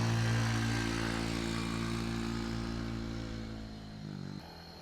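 A motorcycle engine drones steadily close by, then fades as it moves away, ending with a quick drop in sound.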